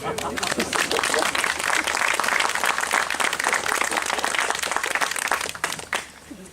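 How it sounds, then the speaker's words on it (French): An audience at a municipal commemoration with a priest's sermon applauds with sustained, fairly loud clapping that holds steady for several seconds, then tapers off quickly at the end. "Je pense que vous pouvez l'applaudir."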